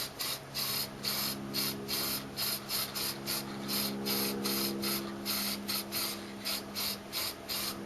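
Second coat of spray applied to a cylinder head part from a Honda GL1100 motorcycle, heard as a steady series of short, close hissing bursts, about a dozen and a half in quick rhythm, with no talking.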